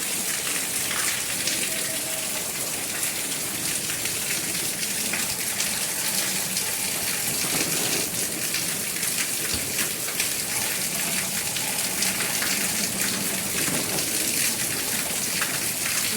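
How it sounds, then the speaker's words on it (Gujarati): Heavy rain in a windstorm pours down in a dense, continuous hiss, with drops pattering loudly on surfaces throughout and no voices. "વાવાઝોડું વરસાદ બહુ આવે છે"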